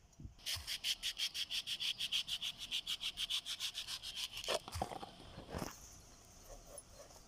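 A knife cuts palmyra fruit pulp into small pieces in a village setting. Quick, even rasping strokes repeat about four times a second, close and clear, then give way to a few slower scrapes and knocks.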